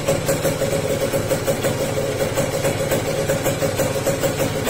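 A motorcycle engine idles steadily nearby, an even mid-pitched putter that holds constant for several seconds with no talk over it.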